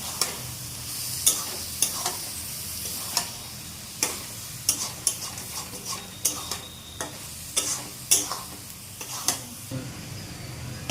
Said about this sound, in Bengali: চিনি দিয়ে একটু নাড়াচাড়া দিয়ে কিছুক্ষণ রাখবো